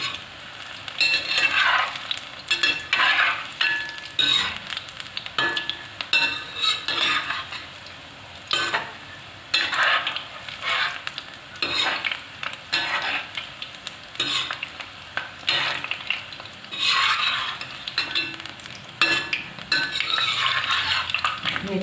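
Fenugreek pakoras frying in hot oil in a pan, a steady sizzle under repeated scraping and stirring as they are turned, with occasional light clinks of a utensil against the pan.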